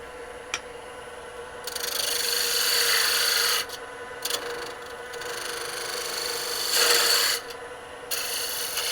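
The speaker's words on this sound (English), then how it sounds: "the next step is to turn down the outside of the wood until it's just small" Wood turned down on a lathe, with a lathe motor humming throughout and bursts of loud abrasive scraping as the tool cuts into the spinning workpiece, stopping and restarting between passes.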